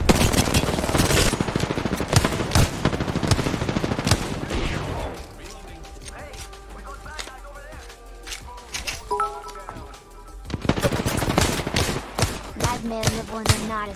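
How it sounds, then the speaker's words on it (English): Gunfire in the Apex Legends video game: rapid, loud automatic bursts in the opening seconds, a quieter stretch with scattered shots and game effects, then another heavy volley, with a voice talking over parts of it. "the gun sounds fucking good"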